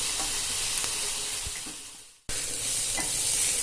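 Green chillies and onion sautéing in a pan, a steady loud sizzle with occasional stirring scrapes, briefly cut to silence before the frying hiss resumes.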